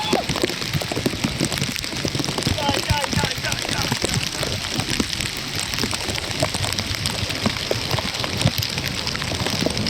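Steady rain falls near a beach in Gokarna, Karnataka, a dense, continuous hiss and patter that stays loud and unbroken throughout, with a voice faintly underneath.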